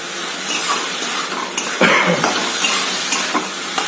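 Dried fish is stir-fried in a pan with brinjal, a loud close sizzle with repeated scraping and clattering of a spatula against the pan, no voices.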